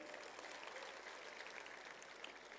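A comedy poetry audience claps steadily, heard faintly and from a distance, with a continuous wash of many hands and no voices over it.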